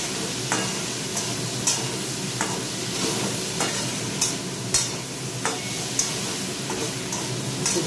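Food fries in a pan after turmeric and green chilli paste are added, a steady close sizzle punctuated by regular scrapes and taps of a spatula stirring, with no talking.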